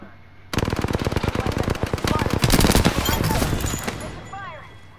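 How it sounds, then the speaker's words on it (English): Apex Legends video game gunfire, heard as a loud, rapid machine-gun burst that starts abruptly and rattles on for several seconds before fading into lighter in-game sounds. "I'm getting shot at"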